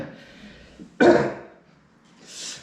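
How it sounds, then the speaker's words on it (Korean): A man clears his throat and coughs once, sharply and close, with softer throaty sounds before it and a breathy exhale trailing after, in a quiet room during a church service. "이렇게 기침해야죠."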